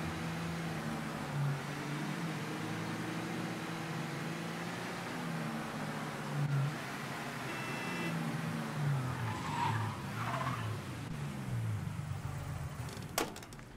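A car drives and skids in Mafia 3, the engine whining up and down through gear shifts while tires squeal and scrub mid-clip, ending with a sharp knock; no talk.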